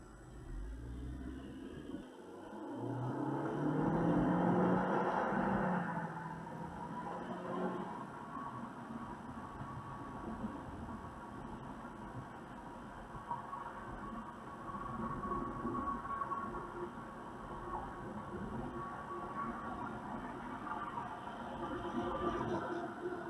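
Inside a 2017 Honda Civic hatchback fitted with a replica Type R spoiler while driving, a steady low road and engine rumble fills the cabin, swelling briefly early on and then holding even.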